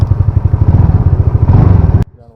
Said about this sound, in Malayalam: ഇതാണ് എൻടോർക്ക് 150യുടെ എക്സോസ്റ്റ് നോട്ട്